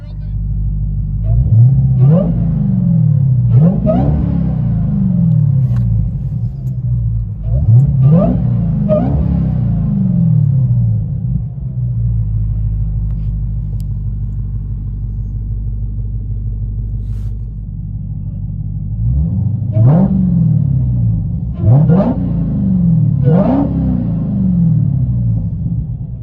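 An 840 hp Dodge Demon revs through its exhaust in three clusters of sharp throttle blips, each rising and falling over a loud, low idle rumble that continues between them.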